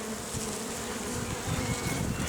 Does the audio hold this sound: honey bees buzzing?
yes